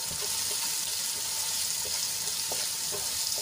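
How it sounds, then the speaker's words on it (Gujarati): Finely chopped onion sautéing in hot oil for a Gujarati vegetable dish, giving a steady, close, hissing sizzle with faint stirring clicks throughout and no voices. "ડુંગળીને આપણે ગુલાબી રંગની થાય ત્યાં સુધી સાંતળી લેવાની છે"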